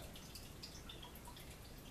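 Water dripping, probably into a container indoors, heard as faint, scattered small drips over a steady low background hiss with no talking.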